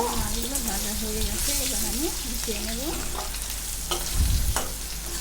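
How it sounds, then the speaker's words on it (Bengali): Rohu fish pieces sizzle and crackle in hot oil while being flipped with a spatula, a steady loud frying hiss broken by scraping stirs and a couple of clattering knocks. "আমি মাছটা উল্টিয়ে পাল্টিয়ে বেশ সুন্দর করে ভেজে নিচ্ছি"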